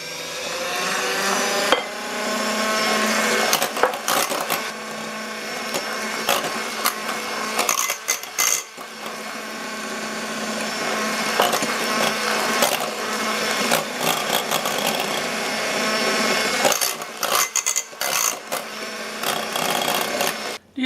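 An electric mixer on medium-high whips cream with powdered sugar, a close, busy motor whir with repeated brief dips and clatters as the beaters work the bowl, no voices.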